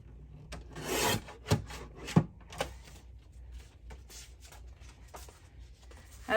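Material for a handmade folio is trimmed with close, dry rasping and rubbing strokes and a few sharp clicks, fairly faint against a quiet room.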